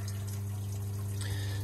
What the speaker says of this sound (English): we're going to fill up our shower pan again with the standard shower